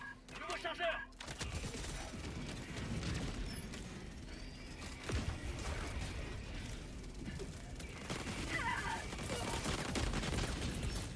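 Automated sentinel turret fire in the co-op shooter Helldivers, rapid mechanical bursts and ratcheting clatter running under game ambience at moderate distance, with a voice briefly present.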